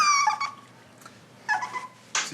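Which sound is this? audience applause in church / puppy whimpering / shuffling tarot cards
puppy whimpering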